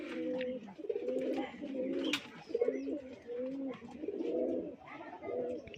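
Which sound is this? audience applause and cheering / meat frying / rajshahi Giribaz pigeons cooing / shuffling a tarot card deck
rajshahi Giribaz pigeons cooing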